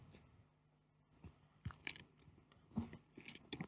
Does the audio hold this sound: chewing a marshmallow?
yes